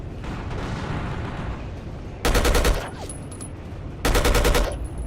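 Rapid automatic gunfire in the video game Battlefield Yugoslavia, two loud close bursts a couple of seconds apart over a rumbling battlefield background.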